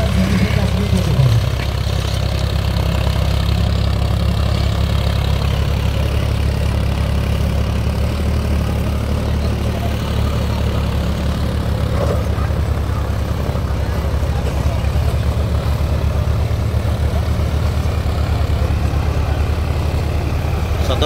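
A John Deere 5050 D tractor engine runs at a steady idle. It is a loud, continuous low drone that holds unchanged for the whole stretch, with some talk faintly underneath.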